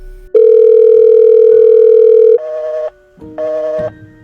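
Outgoing telephone call in an animated Indonesian drama: a loud steady tone holds for about two seconds, then two shorter stepped tones follow, clean and alone with no voices.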